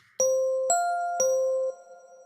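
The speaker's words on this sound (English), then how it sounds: "That ding dong ding is no good." A three-note ding-dong-ding chime sound effect from an online tabletop game session, bright bell-like tones ringing cleanly one after another and fading, alone without talk.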